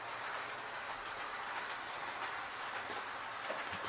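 Small carriages on a Christmas model village railway roll past with a constant rattling clickety-clack, moderately faint and close, without speech.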